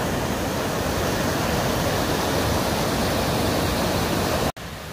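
Steady, loud rush of a mountain river flowing near the Bujaruelo refuge in the Aragonese Pyrenees, a dense unbroken roar of water heard alone, cut off abruptly near the end.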